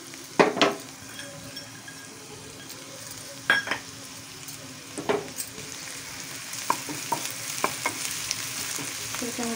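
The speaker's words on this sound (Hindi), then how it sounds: "सभी को अच्छी तरह से गोल्डन फ्राई कर लेंगे।" Chopped onion stirred and frying in about two spoons of hot mustard oil in a pan, a low steady sizzle broken by several scraping stirs, close and moderately loud with no speech.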